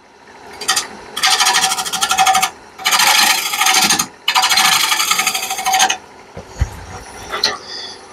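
Wood spinning on a lathe at about 700 RPM is cut by a tool in three long, loud rasping passes separated by short pauses, then lighter scraping touches at the end, with no talk.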